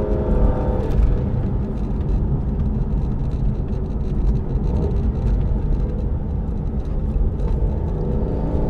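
Aston Martin DB9 grand tourer driving with sport mode off, a steady low engine drone and road roar heard from inside the cabin, constant and fairly loud with no talking.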